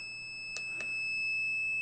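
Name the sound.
buzzer sounding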